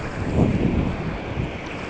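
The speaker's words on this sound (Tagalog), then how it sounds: "Malaking alon! Malaking mga alon!" Big ocean waves off Siargao rumble and wash in a steady low roar, mixed with heavy wind buffeting the microphone, continuous and fairly loud for the whole stretch.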